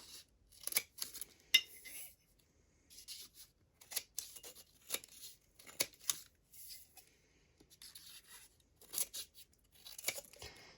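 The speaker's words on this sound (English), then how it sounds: "I am going to trim off right here at the edges since I'm going to be sitting it down." Scissors trimming the edges of a sublimation photo print for a coffee mug: several short, crisp snips with pauses between them, close and fairly quiet, with no talking.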